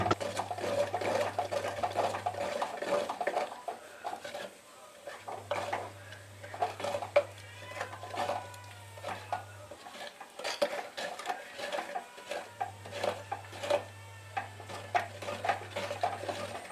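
Cooked jackfruit pieces and seeds are scooped into a clay pot, producing repeated irregular scraping and knocking of a utensil over a steady low mechanical hum that fades in and out.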